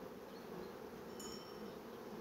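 Honeybees hum steadily inside an open hive during an inspection, a dense, even, close buzz that carries on without a break.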